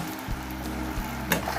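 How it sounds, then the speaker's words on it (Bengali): Sugar, water and a pinch of salt being stirred into syrup in a pan, a steady low bubbling sizzle with soft scraping stirs and one brief sharper clink near the end. "এইবার খুব ভালো করে নেড়ে একটা স্টিকি রস বা সিরা তৈরি করে নিতে হবে।"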